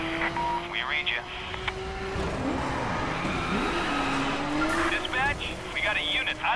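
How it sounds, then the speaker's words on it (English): A police car ramming a target vehicle during a chase in The Crew video game, engines roaring and tires squealing loudly throughout, with radio-style voices talking over the action. "We're gonna ram him"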